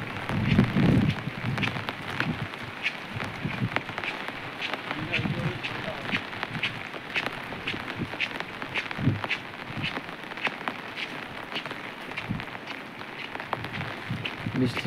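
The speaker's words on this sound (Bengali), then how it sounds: "প্রচণ্ড পরিমাণে বৃষ্টি পড়ছে" Heavy rain pours steadily on a beach near a shrine, a dense, continuous hiss with scattered sharper drops, while a voice talks now and then underneath.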